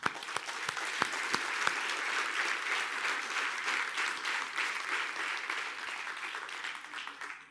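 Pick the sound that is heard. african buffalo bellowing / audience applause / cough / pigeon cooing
audience applause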